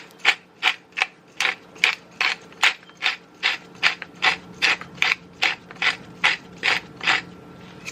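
A hand-cranked pepper mill grinds pepper over dry ingredients for a home-cooked dinner, giving a steady, close ratcheting crunch about seventeen times in an even rhythm, with no voices.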